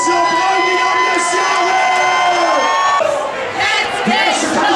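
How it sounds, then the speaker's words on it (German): A large crowd cheers and whoops loudly and continuously at an air guitar contest at the Brokser Heiratsmarkt fair in 2015, with sustained tones ringing through the noise. "Und jetzt kriegst du jetzt mal einen riesigen Applaus."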